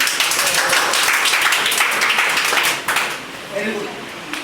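Seminar audience clapping at a motivational talk, a dense, steady patter of many hands filling the clip and tapering slightly near the end, with some voices underneath.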